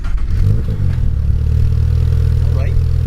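A bagged 2022 Subaru BRZ with an aftermarket exhaust cranks and catches, then settles into a loud, deep, rumbling idle close by, with a voice briefly heard over it.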